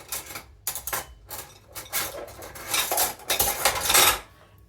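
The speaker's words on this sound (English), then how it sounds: "just grab a teaspoon, mix them all up" A teaspoon clatters against a bowl while stirring air-fried garlic mushrooms with butter, giving repeated close scraping and clinking strokes in uneven bursts that build toward the end.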